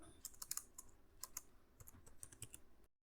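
Fingers typing code on a computer keyboard, a quick irregular patter of close, crisp key clicks in bursts with brief pauses, no talking, ending in silence.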